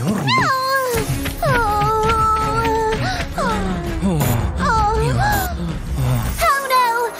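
Several drawn-out meows repeat one after another, loud and close, over a busy background of other sounds; the meows may be a voice imitating a cat.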